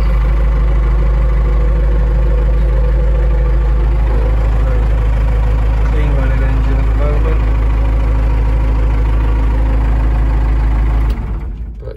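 A Case 580K Turbo backhoe's diesel engine idles with a loud, steady low rumble that holds evenly throughout before cutting off abruptly near the end.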